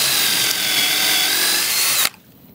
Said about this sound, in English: and drill until the collar stops you